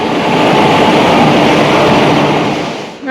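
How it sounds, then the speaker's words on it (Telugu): Loud, steady rumble and roar of a train passing close by at a railway station, continuous for several seconds before briefly dipping at the end. "మేమైతే రైల్వే స్టేషన్ దగ్గరికి వచ్చేసాము"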